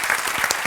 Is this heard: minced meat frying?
no